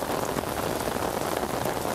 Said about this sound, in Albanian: shohim që intensifikuar rreshtet e shiut Teodor.